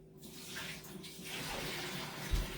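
Hot water is poured out of a pot while applesauce jars are being canned, a splashy, gushing stream that builds and runs steadily in the kitchen, ending with a low thump.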